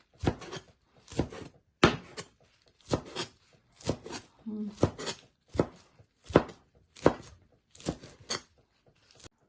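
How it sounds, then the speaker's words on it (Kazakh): A knife chops salad vegetables, including radish, on a cutting board, giving a steady run of about a dozen crisp, close thuds at a regular rhythm. "Бұлай не қылмасаңыздар, мінекей бұлай кесе береміз."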